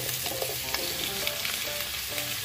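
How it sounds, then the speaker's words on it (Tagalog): Onion and garlic sauté in a hot pan with a dense, continuous sizzle, while occasional scrapes and clicks of stirring sound close by. "Tuloy-tuloy lang natin hanggat sa lumambot itong sibuyas at bawang."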